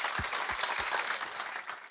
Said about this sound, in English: quick round of applause for the panelists